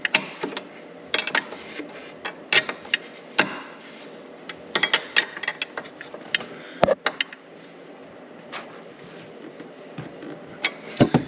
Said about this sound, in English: Spin your jam nut back up. I want to tighten that bad boy.